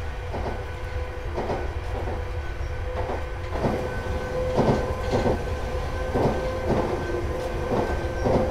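A BR483 electric multiple unit running on a route to Shanklin in Train Simulator 2017 gives a steady rail rumble with regular clickety-clack wheel beats and faint tonal motor whine, continuous and fairly close, with no talk.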